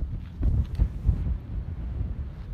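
Gusty wind buffets the microphone near windmills, a low rumbling roar that swells and eases in uneven gusts, close and fairly loud with no talk.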